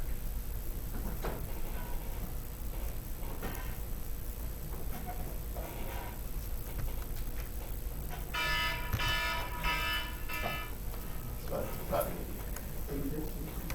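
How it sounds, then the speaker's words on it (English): An alarm plays from a recording in a physics lecture hall, with buzzing, beeping tones rising in bursts partway through, under a steady background hum and some talking. "that was the sound of an alarm"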